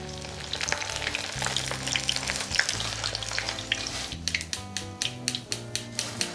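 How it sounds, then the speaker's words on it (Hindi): Corn flakes frying in hot oil, a dense close sizzle with crisp crackles, then a run of rhythmic tapping clicks toward the end; no one speaks. "इसी तरह से हम सारे कॉर्नफ्लेक्स को तेल में बारी बारी तल लेंगे"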